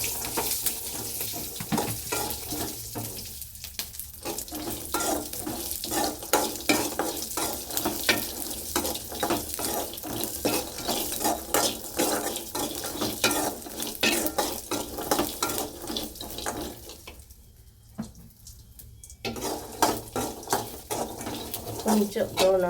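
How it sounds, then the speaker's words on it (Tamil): Dry red chillies roast in a pan for idli podi while a spoon scrapes and stirs them, steady light sizzling with clattering stirring strokes throughout, close by, and a voice talks over the cooking. "இந்த வரமிளகாய் போட்டுட்டு சும்மா ஒரு 2 தடவை திருப்பினா போதும்."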